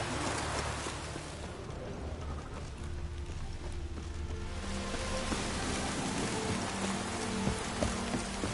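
Rain patters steadily across surfaces in The Witcher 3, a dense continuous drizzle with scattered drop taps and faint low game tones beneath, moderately quiet and without speech.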